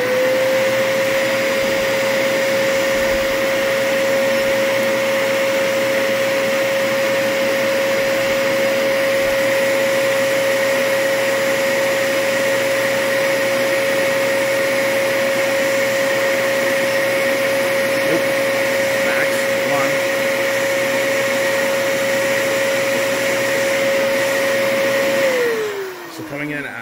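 A Dyson DC33 vacuum cleaner runs loud and steady for close to half a minute, its high motor whine holding a constant pitch before winding down at the very end.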